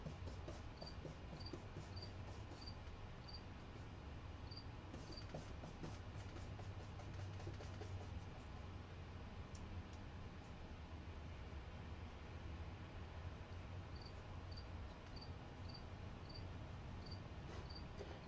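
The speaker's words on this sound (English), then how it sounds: "I hope she enjoys her new crickets." Crickets chirp steadily through the whole stretch in short repeating pulses, over a constant low hum and noisy background, with no talking.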